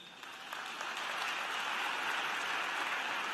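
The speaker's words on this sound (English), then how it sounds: "Please give all of them a round of applause." A graduate commencement audience applauds the platform marshals with dense, continuous clapping heard at a distance. The sound is fairly soft, rises slightly after the first second and holds steady throughout.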